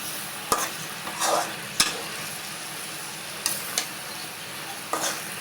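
Chicken pieces and spices being stirred in a hot pan: a low continuous sizzle broken by several sharp spoon clicks against the pan and short scraping bursts, close up, with no talking.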